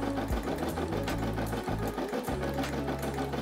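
A Brother SE600 embroidery machine stitches out a design, its needle hammering in a fast, steady mechanical rhythm with a low motor drone, loud and close with no voices.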